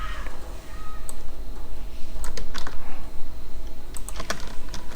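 HTML code being typed on a computer keyboard, clusters of quick clicking keystrokes in irregular bursts over a steady low hum, close and moderately loud.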